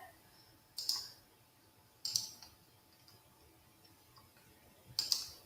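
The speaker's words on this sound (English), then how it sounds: "my mouse is not clicking correctly" Computer mouse buttons clicking three separate times, sharp and quiet, with long pauses between clicks in an otherwise quiet room.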